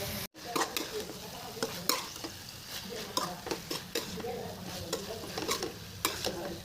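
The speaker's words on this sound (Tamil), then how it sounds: "கழுவி வச்ச சிக்கன் எல்லாத்தையும் உள்ளே போட்டுடலாம்." Washed chicken pieces fry in a pan for kizhi parotta, a soft sizzle running beneath repeated clinks and scrapes of a stirring spoon against the metal, fairly quiet and close.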